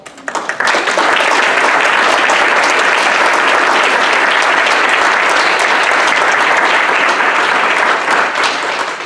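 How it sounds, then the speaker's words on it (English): A faculty senate meeting audience breaks into loud, sustained applause for a staff member, with many hands clapping densely and close by for about nine seconds, swelling quickly and easing slightly at the end. "I would like for you to give her a round of applause"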